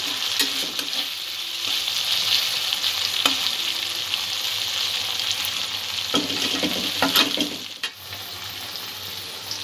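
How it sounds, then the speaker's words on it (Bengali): Spices and green chillies sizzle and fry in a pan, a continuous close crackle with occasional stirring scrapes and louder bursts of spitting. "মশলাটা কষা হয়ে গেছে"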